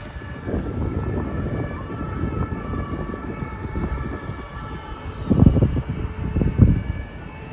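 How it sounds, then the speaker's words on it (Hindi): An ambulance siren wails steadily in the background on a street in Stuttgart, rising and falling under louder nearby traffic and wind rumble, with a couple of heavier bursts of noise near the end. "ये एम्बुलेंस का सायरन है।"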